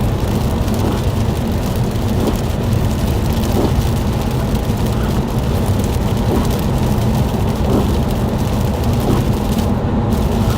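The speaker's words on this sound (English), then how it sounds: "it is definitely mixed in with sleet right now, but it's mostly just like a rain and freezing rain" Rain and freezing rain mixed with sleet during a heavy snow and ice storm in Pennsylvania, a loud, dense, steady patter and hiss with faint ticks scattered through it and no voices.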